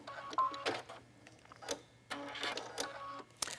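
A sewing machine stitches a few inches along a tote bag handle in short bursts, with brief whirring runs separated by pauses and clicks, close by, with a low steady hum underneath and no talk.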